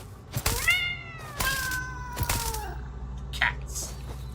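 Cats from the arachnophobia mode in the Satisfactory video game meow in several drawn-out, wavering calls, close and clear, interrupted by sharp bursts of game noise.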